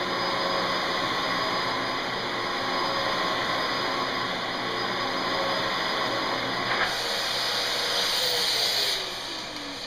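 A Dyson vacuum cleaner runs steadily on a floor, a loud continuous whine and hiss that holds level for about nine seconds and then drops slightly near the end.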